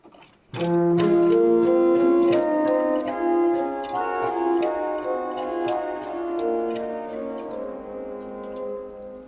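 Two sustained organ middle voices move together in a steady, dense texture from Bach's BWV 621, played alone without talk, ringing clearly at a moderate volume.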